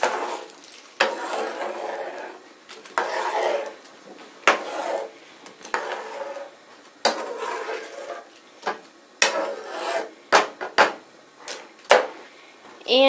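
A spoon stirs Hamburger Helper made without meat in a pot on a stove set to high, giving irregular clanks and scrapes against the metal with quieter gaps between them.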